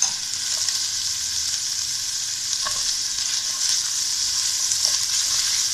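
Carrots, onion and capsicum sauté in a pan for masala chicken macaroni, giving a steady, close sizzle and hiss with occasional soft stirring clicks and no talking.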